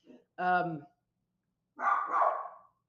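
A dog gives two close barks about a second apart. The first is short and tonal, the second rougher and more drawn out, with no talk between them.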